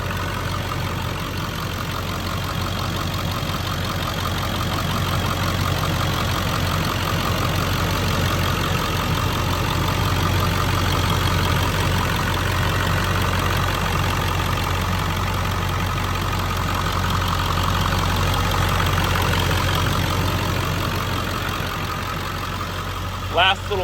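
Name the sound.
2001 Ford Excursion 7.3L Powerstroke diesel engine idling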